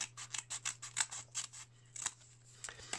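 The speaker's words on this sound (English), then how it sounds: "you get your scissors and we cut" Rapid, crisp snips of scissors slicing through paper, a quick irregular series of close cuts followed by a few more spaced out.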